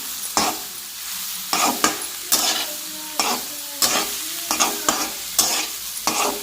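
Carrots fried in oil while being stirred, a steady sizzle broken by repeated scraping strokes of a spoon against the pan, close and clear with no talk.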